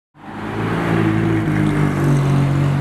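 A Ferrari Scuderia engine revs hard up close, a loud, sustained howling roar that starts suddenly and holds strong to the end.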